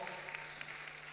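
Fairly quiet, steady clapping from a crowd at a Ghanaian youth empowerment event, a continuous patter with no talk heard over it.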